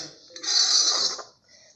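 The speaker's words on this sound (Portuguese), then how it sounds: "Pegar uma colher aqui." A spoon being picked up from among cutlery, giving one short metallic clink and rattle up close, with a quiet voice nearby.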